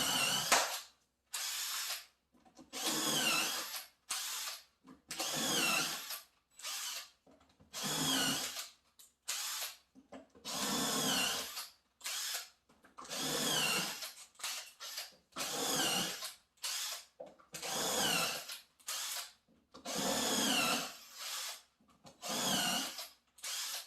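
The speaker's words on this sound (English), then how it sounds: "I'm using a centering bit like this" A drill fitted with a centering bit bores holes in wood for kitchen base cabinets, working with a jig. It runs in about fifteen short, even bursts of whirring and cutting, with short silences between them, heard close up and fairly quiet.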